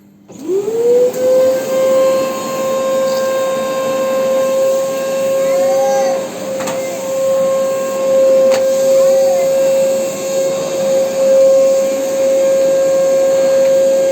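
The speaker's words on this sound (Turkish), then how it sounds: "Elektrikli süpürge mi yapıyorsun?" A toy electric vacuum cleaner runs steadily for the whole stretch with a constant motor whine and airy hiss. It starts up at the beginning, and a few faint voices sound in the background.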